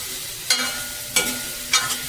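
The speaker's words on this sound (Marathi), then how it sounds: "आता बघा हे कवा शिजत आहे तुमचं" Food frying in a pan on a home stove, a steady sizzle with three louder stirring scrapes about every half second to second, no talk.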